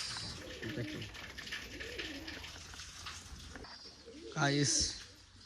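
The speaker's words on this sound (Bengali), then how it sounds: "এটা একটা বাচ্চা কবুতর" A young pigeon is caught and handled among a flock fed on grit, with soft coos and a brief burst of flapping or fluttering near the end, over steady background noise and faint voices.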